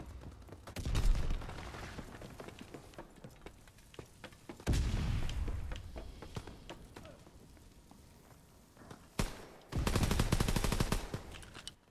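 Gunfire in Call of Duty WW2 with sniper rifles in play, loud bursts of rapid shots and booming impacts around 1, 4.7, 9 and 10 seconds, separated by quieter game ambience.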